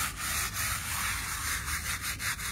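A gravestone is scrubbed with a brush using D2 biological cleaner and water, producing repeated rhythmic rubbing strokes, close but fairly soft, with no talking.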